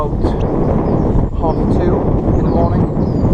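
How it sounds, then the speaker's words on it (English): Strong blustery wind buffets the microphone on Hadrian's Wall Path, a heavy low rumbling roar with gusty surges, while a person talks faintly underneath. "the weather's a lot different from yesterday, very windy"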